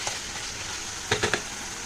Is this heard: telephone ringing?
no